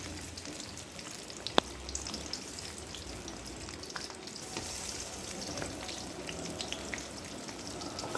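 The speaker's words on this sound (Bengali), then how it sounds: "সেই শুকনো আমগুলো আমি তেলের মধ্যে দিয়ে দিই।" Sun-dried mango pieces for pickle fry in hot oil, a steady soft sizzle with light crackles and a sharp pop or two, close and continuous with no talking.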